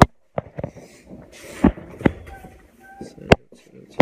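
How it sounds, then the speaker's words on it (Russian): Fireworks popping and cracking outdoors, several irregular sharp bangs scattered over a few seconds with voices talking and background noise in between. "Салют, салют."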